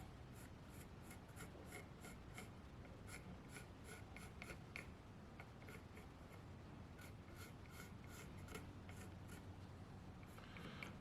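Pencil sketching a jointer design on paper, a soft continuous scratching with short repeated strokes, close and quiet throughout.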